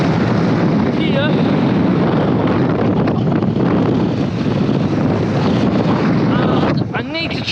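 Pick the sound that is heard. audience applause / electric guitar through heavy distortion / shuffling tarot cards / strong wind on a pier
strong wind on a pier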